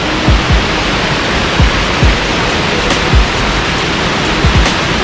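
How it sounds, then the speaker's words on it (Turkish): A waterfall at Doğançay pours in a steady, dense broadband roar with no gaps, close and loud throughout, with faint splashes and low thumps rising now and then beneath the rushing water. "Yani burası şelalenin aktığı yer."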